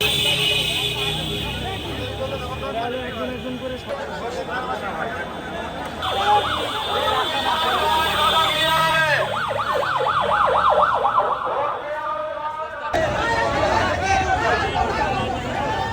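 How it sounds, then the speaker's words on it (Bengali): Ambulance sirens arriving one after another at the Zabeer Hotel fire scene in Jashore, loud wailing tones rising and falling over crowd noise and voices, with one siren cutting off and another starting. "প্রতি মিনিটে বলতে পারেন এক একটা অ্যাম্বুলেন্স আসতেছে আর আমাদের সদর হসপিটালে নিয়ে যাওয়া হচ্ছে"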